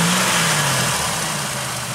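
A car engine runs steadily near the microphone, its hum holding an even pitch that drifts slightly as the throttle is pressed, with no talking over it.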